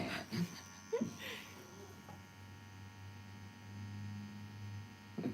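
Tattoo machine running with a steady low electric buzz, fairly quiet and continuous, with a few brief knocks and scrapes near the start and the end.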